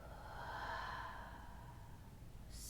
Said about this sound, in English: One more exhale.